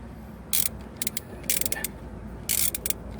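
A 13 mm socket wrench ratchets out the brake caliper pins on a 2006 Chevy Trailblazer: four short bursts of rapid close clicking separated by brief pauses over a quiet background.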